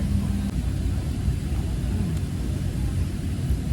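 Steady airplane cabin noise while seated on board a passenger plane, a continuous broadband roar with a low rumble, unchanging and fairly loud throughout.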